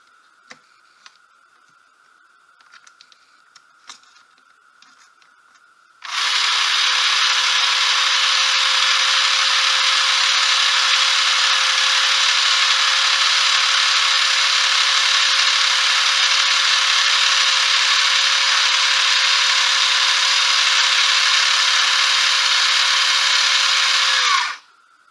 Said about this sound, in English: The motor turned everything around.